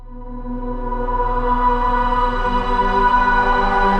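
A sustained choir pad from the Serum 2 wavetable synthesizer holds a rich chord, swelling slightly in brightness as it drones on alone for several seconds.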